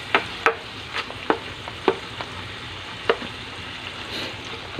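Shrimp paste being stirred in a pan, with several distinct scraping clinks of a utensil against the pan at an irregular pace over a soft sizzle, close and moderately loud.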